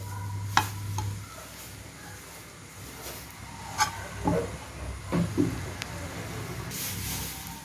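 Chicken fried rice being stirred and tossed in a pan, with soft intermittent scrapes and clacks of the utensil over a quiet sizzle, a few sharper knocks along the way and no talking.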